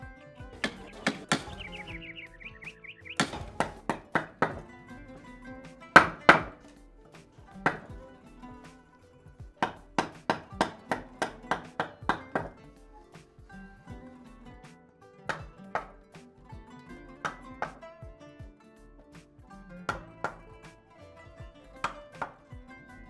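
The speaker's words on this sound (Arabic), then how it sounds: "فن الحفر على الخشب يحتاج إلى دقة وصبر طويلين" Hand tools tap and knock into wood as an artisan carves in the old town of Khiva, sharp close strikes coming in irregular bursts and clusters with short pauses, no voices.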